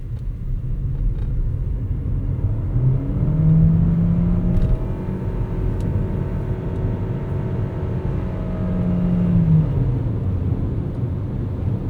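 A Proton e.MAS 7 plug-in hybrid car accelerating in power mode, a steady low engine rumble and whir from inside the cabin that swells twice, with no talking.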